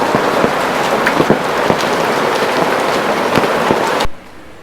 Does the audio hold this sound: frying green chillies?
no